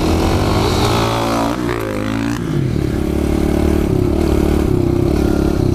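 A dirt bike engine, a big KTM 450 or a small pit bike, revs hard and loud close by, its pitch dipping and climbing through a throttle change before settling into a steady, throaty drone with no talk over it.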